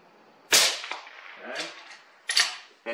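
A rifle fires a single sharp shot while being zeroed at a 100-yard range, loud and close, with the crack echoing and rolling away, then a fainter second report later on.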